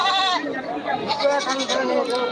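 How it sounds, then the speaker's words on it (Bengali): Goats bleat in a crowded outdoor livestock market, wavering cries overlapping with someone talking and background chatter. "প্রচুর ছাগল দেখতে পাচ্ছি হাটে"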